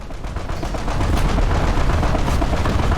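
Heavy naval gunfire in a sea battle video game, a dense run of rapid booming shots that swells louder after the first half second and stays loud to the end, with no talking.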